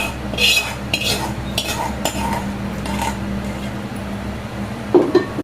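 Hot cooked pulihora rice mixed with green chillies in a vessel: a spoon repeatedly scrapes and clinks against the metal pot in close, uneven strokes, with a sharper clank near the end.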